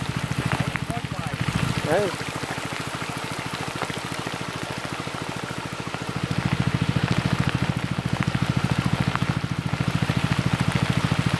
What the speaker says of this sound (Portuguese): é uma camada de chuva que tá aqui na nossa frente